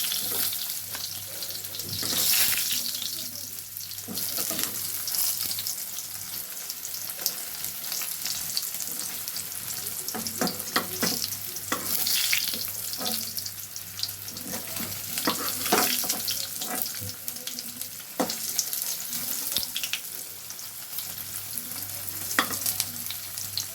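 Paneer cubes crackle in hot oil as they are flipped and turned in the pan, a steady sizzle running for over twenty seconds. Frequent scraping and clinking spatula strokes come close to the microphone.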